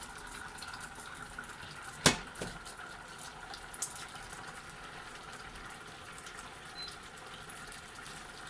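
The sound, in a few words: rice boiling in a pot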